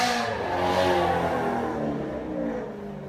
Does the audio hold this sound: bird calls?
no